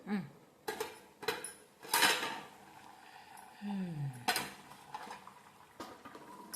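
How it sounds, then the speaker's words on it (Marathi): A metal lid lifted off a cooking pot of taro leaf curry in a home kitchen, with clanks and clinks of metal on metal, scraping and short sliding rattles at close range. "झाकण काढून घेऊया."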